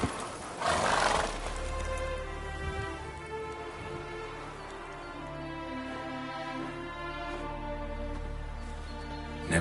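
Roach, Geralt's horse in The Witcher 3: Wild Hunt, gives a loud whinny near the start, then shifts and snorts under a steady patter of rain with faint hoof clops.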